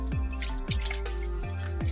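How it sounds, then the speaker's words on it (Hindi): Water pours and drips onto a cocopeat block sitting in an open container, making repeated close splashing drips in an uneven rhythm over a continuous liquid trickle. "अब इसके ऊपर मैं पानी का छिड़काव कर दूँ, इसके अंदर पानी भर दूँगा"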